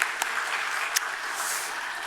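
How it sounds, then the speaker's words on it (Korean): A Korean church congregation claps in thanks during a Sunday worship service, moderate, fairly soft applause with a few sharper claps standing out. "여러분 모두가 감사 박수 올려드립니다"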